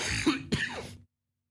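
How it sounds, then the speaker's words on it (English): Two quick, harsh coughs close to the mic, rough and throaty, then abrupt silence. "I've had this cough for like 2 weeks."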